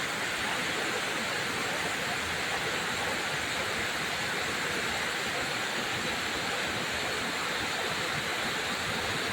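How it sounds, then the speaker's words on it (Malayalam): Punnayar waterfall near Kanjikuzhi in Idukki, Kerala, roars as a dense, unbroken wash of falling water, loud and steady throughout with no voices over it. "ഇതാണ് പുന്നയാർ വെള്ളച്ചാട്ടം."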